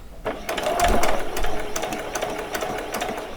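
A sewing machine runs a few back stitches on a doll's saree, a close mechanical whir with quick clattering needle strokes, steady and alone.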